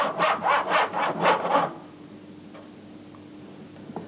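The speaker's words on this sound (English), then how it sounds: "I can keep sawing even if I saw a little into the bench hook." A hand saw cuts through wood on a bench hook in about six quick rhythmic strokes, rasping and close, then stops, leaving a quiet room with a faint hum.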